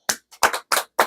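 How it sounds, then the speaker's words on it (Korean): Five quick, crisp hand claps ring out close to the mic in a Korean stock-market talk broadcast. They come in a short, uneven burst with clean silence between them. "그분, 박수!"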